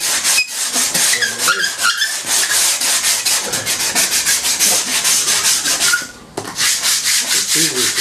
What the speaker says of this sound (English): It's easier to sand the edges.